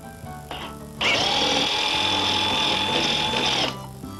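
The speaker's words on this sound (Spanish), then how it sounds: "vamos a hacer un avellanado y ese avellanado tiene que ser un poco más profundo que esta tuerca" A power drill countersinking into the wooden frame of a lounger, a loud steady whine for about three seconds with a short burst just before, close by.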